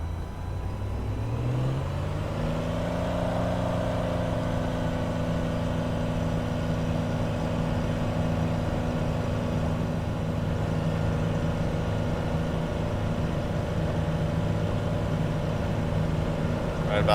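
A small general-aviation plane's piston engine runs up to full throttle for takeoff, its droning tone climbing in the first seconds and then holding a loud, steady roar.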